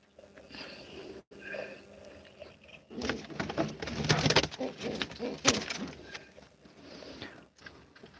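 Pigeons coo softly in a loft in Howrah, West Bengal, with a faint murmuring call followed by a denser burst of cooing and rustling wing sounds in the middle, fairly close but quiet.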